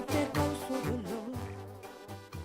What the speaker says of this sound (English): it's that heavy horn, the oompa sound that gives banda its distinctive flavor